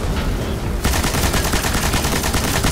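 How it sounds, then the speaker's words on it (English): Minotaur enemies fire in the video game Destiny, a dense, loud, continuous barrage of rapid shots that swells after a brief quieter opening. "Watch out, Minotaur's shooting in here."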